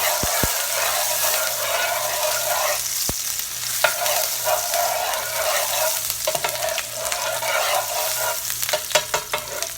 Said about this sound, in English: So I have added my garlic and my ginger. Cook it in my sesame oil.